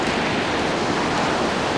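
A waterfall on a forested Golden Ears Park trail roars steadily close by, a dense, unbroken wash of white water with no voices over it.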